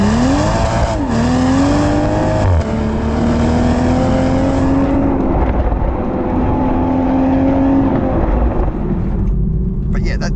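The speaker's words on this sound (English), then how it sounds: "I'd rather just hear the natural noise of the engine, even if it's a bit of induction noise and a bit coming out of the muffler from the back." A 2025 Toyota GR Supra with its BMW B58 engine under way, the engine note rising in pitch through the gears with intake and muffler sound, loud and continuous from inside the cabin.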